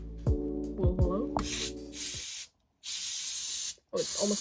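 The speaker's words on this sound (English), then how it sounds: "Spray a lot on it now." Aerosol spray can hissing onto a smoke alarm during a garage fire alarm test: three long, loud bursts of spray with short gaps between, after someone speaks briefly at the start.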